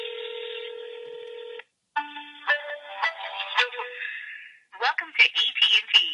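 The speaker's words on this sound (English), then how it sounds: "let's go ahead and dial 611 to make sure that this device is running on AT&T's network" An iPhone 4S dialing 611 on the AT&T network, a steady tone followed by a series of short touch-tone beeps, some quick and clustered, loud and close with no one speaking.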